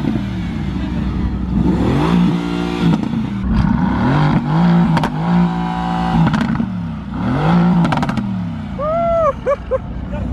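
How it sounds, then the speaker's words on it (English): A Lamborghini Aventador on a Dubai street revs hard in repeated loud, rising and falling bursts, rasping close by with sharp crackles between pulls, while people talk nearby. "This is one of the loudest Aventadors ever, guys."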